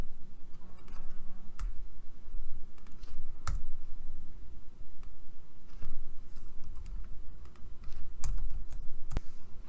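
Typing on a computer keyboard while entering VBA code, a steady close patter of key clicks with a few louder strikes, continuing alone throughout.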